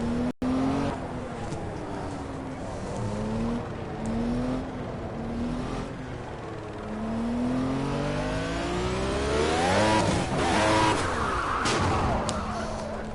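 A turbocharged race car in Project Cars builds slowly through the gears before surging hard, engine note rising and falling in long sweeping harmonics with brief tire squeal near the end, loud and close without any talk.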